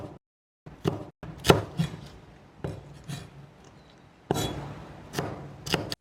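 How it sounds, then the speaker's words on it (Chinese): A bunch of scallions chopped into segments with a knife on a cutting board, giving sharp, close knocks in irregular clusters with brief pauses, loud and without talk. "一把小葱切成葱段"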